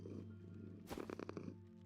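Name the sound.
cat purring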